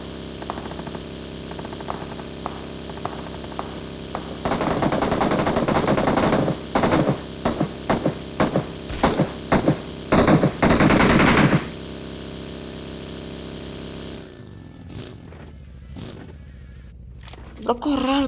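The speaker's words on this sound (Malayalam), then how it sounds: "എവിടുന്നാണ് വെടിച്ചോണ്ടിരിക്കുന്നത്? അതാണ് വെടിച്ചോണ്ടിരിക്കുന്നത്." Automatic gunfire in PUBG (BGMI) rips out in a long sustained burst, followed by rapid chopped volleys of shots, then fades into quieter scattered sounds near the end.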